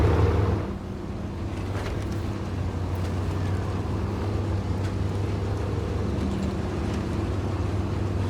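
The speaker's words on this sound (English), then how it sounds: "Biggest engine, best tyres," A heavy truck fitted with the biggest engine and best tyres strains through Alaska terrain in Snowrunner, a low, steady droning rumble that holds constant and close throughout, with faint talk beneath.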